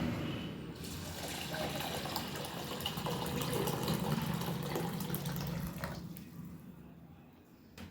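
Water runs steadily from a tap while hands are washed, a close, continuous splashing hiss that fades out near the end.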